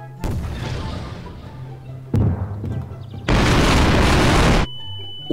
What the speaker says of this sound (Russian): Вот это взрыв под водой.